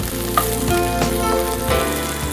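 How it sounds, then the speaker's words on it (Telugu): Onions fry in a pan on a cooking show, a steady close sizzle with bubbling crackle and occasional stirring scrapes, no voices. "సో మనకు ఆనియన్స్ ఫ్రై అవుతున్నాయి కదా"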